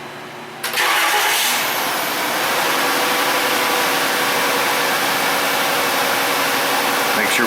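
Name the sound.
engine running, misfiring badly on about one cylinder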